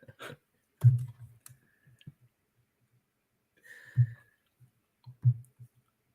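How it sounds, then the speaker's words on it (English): Typing on a computer keyboard, a few sparse clicks and key taps scattered across near silence, close and fairly faint. "I'm typing the question."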